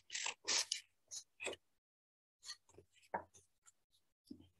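Quiet scissor snips trimming the edges of a sublimation print for a mug, a few short crisp cuts followed by softer scraping and rustling of the paper, close up.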